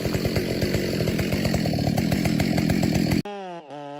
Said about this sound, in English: The chainsaw roars, announcing a new battle.